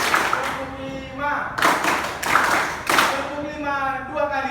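Classroom of vocational high school students clapping together in rhythm during a counting exercise, sharp group claps landing in clustered bursts with a child's and teacher's voices speaking between them.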